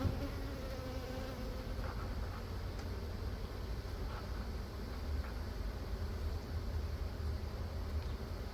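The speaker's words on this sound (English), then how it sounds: "Lots of bees under there." Honeybees swarming under a beehive lid during a hive inspection make a steady, dense buzz, a continuous low hum with no pauses that holds at an even moderate level throughout.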